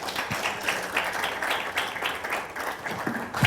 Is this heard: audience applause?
yes